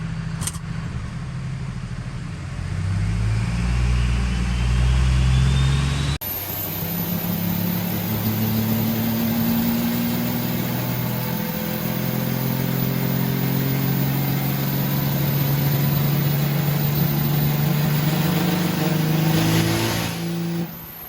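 A 1400 horsepower engine with an HE351 turbo and nitrous roars loudly and steadily, revving under load with a sharp shift in tone partway through and sustained high output to the end.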